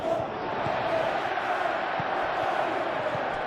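Stadium crowd in a PES football video game, a steady massed roar and murmur of fans from the stands, constant across the stretch with a few faint thumps beneath.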